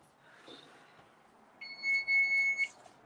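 After a quiet stretch, a kitchen timer alarm goes off with a rapid, high electronic beeping for about a second, faint and alone with no talk.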